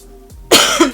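A single sharp cough bursts out after a brief near-silent pause, loud and close, followed by a second smaller throaty cough at the very end.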